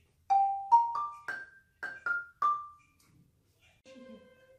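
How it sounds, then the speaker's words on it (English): A xylophone struck with a mallet plays a short rising run of about seven bright, ringing notes, each with a quick attack and brief decay, fairly close and alone in a quiet room, followed by a faint different tone at the end. "This is a xylophone. Play it with a mallet."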